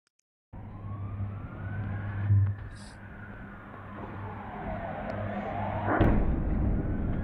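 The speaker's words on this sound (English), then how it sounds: "And the ambulance running in the street like crazy." An ambulance races down a street during a bombing, its siren wailing in steady rising and falling sweeps over a constant low traffic rumble, close and loud throughout.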